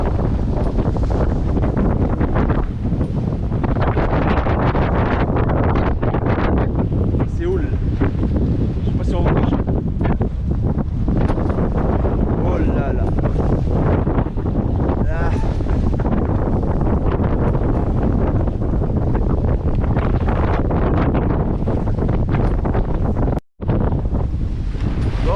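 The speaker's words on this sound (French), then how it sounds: "Je sais pas si on m'entend avec le vent." Heavy wind buffets the microphone aboard a sailboat at sea in a constant low roar, with water sloshing nearby and a brief dropout near the end.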